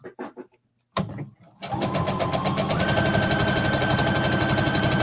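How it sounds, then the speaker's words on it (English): A sewing machine top stitches along the edge of twill tape, starting after a brief pause and then running in a fast, steady, close mechanical whir that holds to the end, with some faint talk at the beginning. "we're just going to top stitch this down now"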